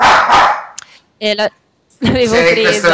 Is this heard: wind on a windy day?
no